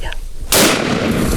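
A single loud rifle shot on a dangerous game safari in Zimbabwe, a sharp close blast followed by a rumbling echo that trails off outdoors.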